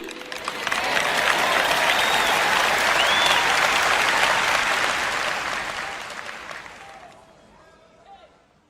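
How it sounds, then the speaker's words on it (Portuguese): A church congregation applauds loudly during a sermon, steady dense clapping that swells quickly, holds for several seconds, then fades away toward the end. "você não está aplaudindo tão alto quanto aplaudiu para outras coisas"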